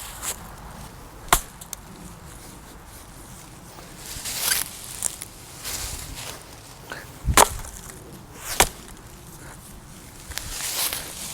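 A Cold Steel Trail Hawk tomahawk splits a piece of wood outdoors, a few sharp, separate chops and splintering cracks spaced seconds apart, with rustling and shuffling in between.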